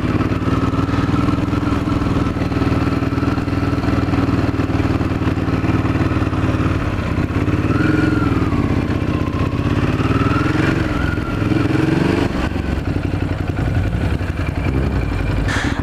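Motorcycle riding through Quebec City streets, a loud, steady engine drone close to the rider with pitch rising and falling as it accelerates and shifts, no talk.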